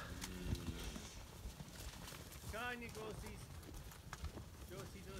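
Cows with bullock calves walk in from a farm field, their hooves clattering faintly and irregularly under people calling and urging the animals on.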